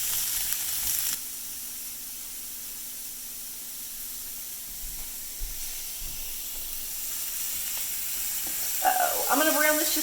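Sausage browns in a pan in a Southern kitchen, giving a soft, continuous sizzle and hiss with a few faint clicks and a short livelier crackle near the end.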